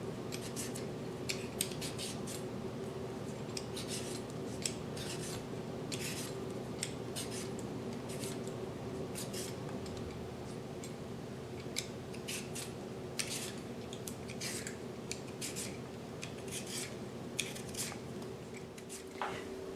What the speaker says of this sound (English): let's peel and cut a potato.